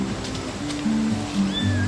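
Samson, a large captive African lion, gives low, drawn-out moaning calls with a thin rising whine near the end, close and fairly loud over a soft background wash.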